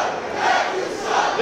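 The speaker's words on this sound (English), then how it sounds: "This crowd getting upset at our referee for some reason" Wrestling crowd at an indie show jeering the referee, a brief swell of shouting and booing voices rising and falling twice in a short burst.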